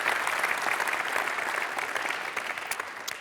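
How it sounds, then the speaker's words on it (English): Audience applause at a conference breakfast keynote in Sydney, a dense and steady roll of many hands clapping that thins slightly toward the end. "I think that deserves a round of applause."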